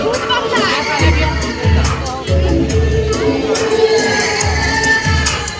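A dense crowd murmurs and chatters at the Bhilai Madai fair, a steady outdoor babble with occasional shouts, while someone talks up close over it.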